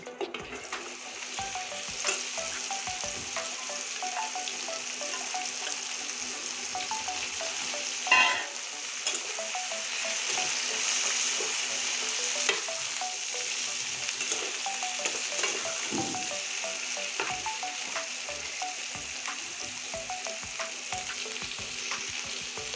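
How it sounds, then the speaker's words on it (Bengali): Chopped bottle gourd frying in a pan over a cumin tempering, a steady close sizzle with scraping stirs throughout and a brief louder clatter of the spoon midway. "এখন আমি এই কুচানো লাউ দিয়ে দিচ্ছি"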